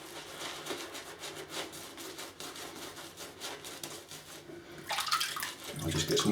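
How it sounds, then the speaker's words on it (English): Water splashes from a tap into a soft shaving brush knot, a steady close trickle that swells into heavier running water near the end, with a brief voice. "I'll just get some more water in it."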